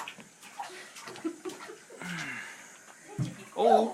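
A baby splashes water in a bathtub with soft sloshes and a louder splash near the end, under an adult's voice and light laughter.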